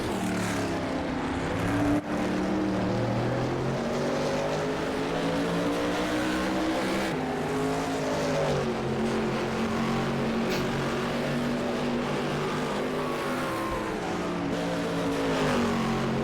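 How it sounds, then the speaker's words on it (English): Race car engine heard from the in-car position during a GT revival race at Linas-Montlhéry, a loud continuous roar that rises and falls through gear changes for the whole stretch. "Hopefully the in-car sound isn't drowning me out today."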